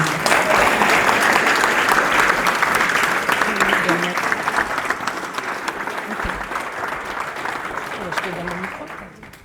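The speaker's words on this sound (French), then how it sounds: "donc on applaudit bien fort Soraya" Loud, sustained audience applause at a political meeting in Chambéry, greeting a speaker named Soraya; dense clapping fills the whole stretch and tapers slightly toward the end, with faint voices beneath.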